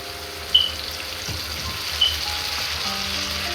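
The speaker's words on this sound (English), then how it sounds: "I'm gonna just add a little bit of water" Water hits stir-fried chicken in a hot pan, a continuous loud sizzle and hiss with a couple of sharp spits near the start, close and without any voices.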